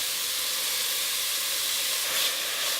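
Garlic, ginger and green chilies fry with onions in a pan, giving a steady, even sizzling hiss throughout with a slight flare near the end, no talking.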